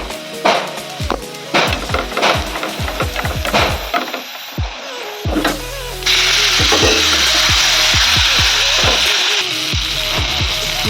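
Sliced pointed gourd (potol) frying in a pan in a home kitchen, a loud steady hiss of hot oil after earlier clatter of utensils and stirring knocks, close and continuous.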